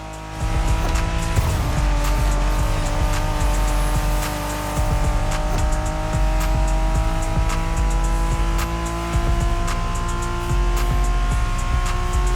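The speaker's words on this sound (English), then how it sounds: "Are you familiar with the Honda you're driving? The NSX isn't your regular street car." Honda NSX sports car racing in The Crew Motorfest, its engine droning steadily and loudly throughout with rising revs, bursts of tire squeal and skidding, and a brief dip near the start.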